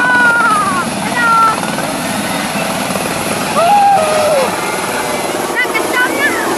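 A helicopter engine drones loud and steady nearby on a field after an emergency landing, its rotor thrum continuous with faint whistling tones above, while people talk over it.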